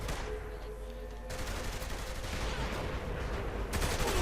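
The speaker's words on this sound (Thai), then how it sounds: "โอ้ยิงจนหมดแม็ก" Sustained rapid gunfire from Saints Row: The Third as a magazine is emptied, a dense, loud, unbroken burst of shots running the whole length, with no voices over it.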